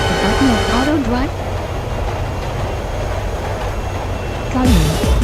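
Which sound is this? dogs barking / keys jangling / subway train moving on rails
subway train moving on rails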